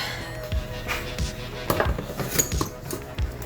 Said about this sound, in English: Scrape all the rice off the sides of your bowl because you don't want them to burn on there.